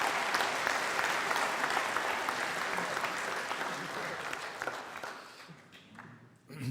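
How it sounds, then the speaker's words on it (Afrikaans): A church congregation gives a warm round of applause at a new-member confirmation service, dense steady clapping from many hands that gradually thins and fades near the end. "Kom ons gee vir hom ook 'n lekker hande klap."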